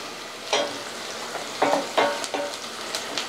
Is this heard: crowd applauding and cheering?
no